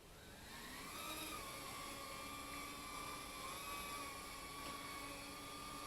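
A Flex RC Pico Owl micro drone hovers indoors at just under half throttle, giving a faint, steady, high-pitched propeller whine that holds without break.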